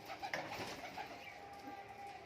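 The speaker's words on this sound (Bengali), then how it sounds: "ভালো ভালো কোয়ালিটির বাজি পায়রা রয়েছে" Giribaz high flyer pigeons coo softly in a loft, a steady low murmur of overlapping calls with no voices over it.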